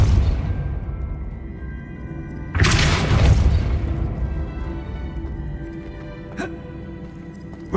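A Depulso repelling spell in Hogwarts Legacy lands as a single loud burst of impact and rumble, followed by a fading low roar and a brief later knock, with no talk.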